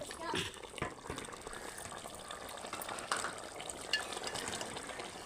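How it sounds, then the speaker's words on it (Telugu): Eggplant pulusu, a tamarind curry, bubbles at a rolling boil in a pot, giving a steady close hiss with scattered pops and clicks and a voice now and then. "మరుగుపోతుంది మరి వచ్చేసింది పులుసు ఇది"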